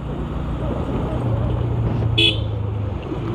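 A short horn or bell toot sounds once, briefly and at moderate distance, over a steady roar of wind and traffic while riding a KTM motorbike on a hot road.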